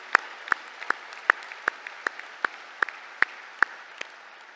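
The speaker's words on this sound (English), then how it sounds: "Please applaud all of our MIDS Awards winners." Audience clapping for award winners at a university commencement ceremony, heard as sparse, sharp individual claps spaced evenly, close and distinct rather than a full roar.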